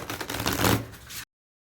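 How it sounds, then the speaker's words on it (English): A brief, dense burst of tarot cards being shuffled, a fast papery riffle lasting about a second before cutting to silence. "there's a lot of decks to shuffle for you tonight"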